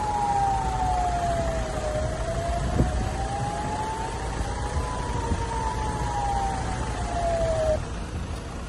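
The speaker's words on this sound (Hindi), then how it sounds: "इन रॉकेट हमलों के बाद इसराइल के बड़े इलाकों में चेतावनी वाले सायरन भी सुनाई दिए हैं।" Warning sirens sound across Israel after rocket attacks, with one distant wailing tone slowly rising and falling over a constant background rumble and a faint thud partway through.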